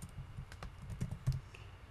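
Quick, uneven keystrokes on a computer keyboard while a package address is entered in Unity, a run of light clicks with a couple of heavier taps, close and alone with no speech.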